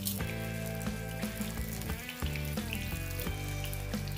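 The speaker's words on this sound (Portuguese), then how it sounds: "Aqui eu estou fritando em pouco óleo" Panko-breaded fish fries in a shallow layer of oil, giving a steady, loud sizzle throughout with light clinks of a utensil and music-like tones underneath.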